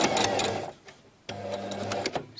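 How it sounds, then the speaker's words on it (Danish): A domestic sewing machine stitches the side seam of a girl's circular skirt with a ribbed waistband, running in two steady bursts separated by a short pause, close and clear. "Så har vi syet vores sidesøm sammen."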